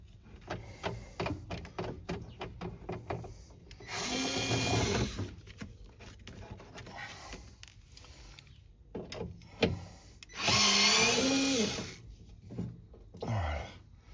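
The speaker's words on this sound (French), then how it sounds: "Je vais chercher quelque chose pour percer les rivets" A drill works on the rivets of a rear window regulator in a 2008 Peugeot 407 SW 2.0 HDi, with two sustained whirring bursts separated by clicks, taps and handling noises of parts nearby, and no one speaking.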